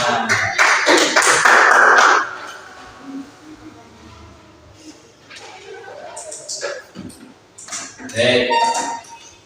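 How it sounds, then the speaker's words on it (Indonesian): Teachers in a coding and AI training class clap their hands in a brief burst of quick, close claps. Then quieter room sounds and talking follow, with a few more taps near the end. "Ya, tepuk tangan."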